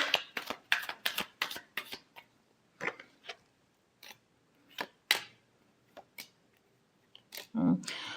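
Tarot cards are shuffled by hand in a series of quick, crisp riffling and tapping bursts with short pauses between them, close and fairly quiet.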